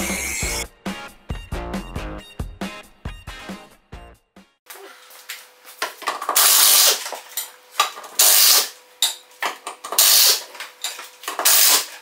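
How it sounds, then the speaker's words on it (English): Power tool working on a Fiat's wheel during brake repair on seized calipers, loud ratcheting bursts in rapid repeated runs, close up, with clanking of parts and a quieter stretch of mechanical handling before it. "So let's remove this tire and see what's going on."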